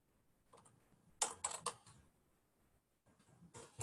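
Computer keyboard keys click nearby in short quiet bursts as a command is typed, with a louder cluster of strokes in the middle and a few more taps at the end.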